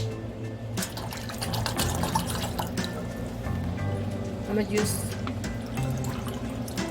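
Bottled spring water pours steadily into a pot for soup, a continuous close splashing and trickling while a person talks over it.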